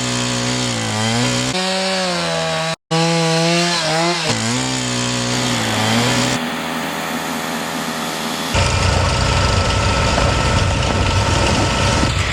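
Drifting Antarctic snow cut into blocks for hauling by sled, a loud, close, continuous scraping and grinding that shifts in pitch and texture, with a brief break partway through and no voices.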